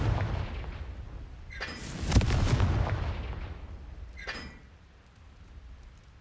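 A Confringo spell blast in Hogwarts Legacy bursts loudly with a heavy boom, followed a couple of seconds later by a second, softer explosive crack over a low rumbling game backdrop.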